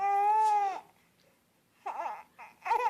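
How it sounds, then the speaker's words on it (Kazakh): A baby lets out a sharp, high wail, then after a short silence gives a few more broken, fussy cries. "Естимісің? Құрттай баланың даусы."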